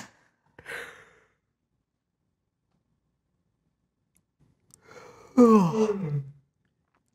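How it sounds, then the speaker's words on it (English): A person yawns once with a drawn-out, moaning exhale that rises then falls, preceded by a brief breath and surrounded by quiet; no talking. "I'm about to yawn."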